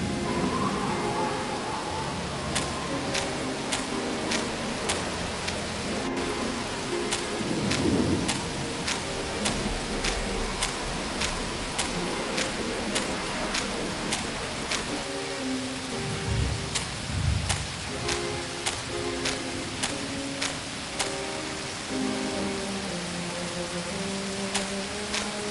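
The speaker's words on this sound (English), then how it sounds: "Won't do to get caught out here when the brunt of this storm hits." A thunderstorm with steady rain in the PC mystery game And Then There Were None, set on an island: continuous rain hiss with rolling thunder rumbles and a looping musical score layered over it, no speech.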